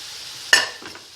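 Meat frying in a pan for borscht, a steady close sizzle with a sharp metallic scrape of a utensil stirring partway through, then softer shuffling.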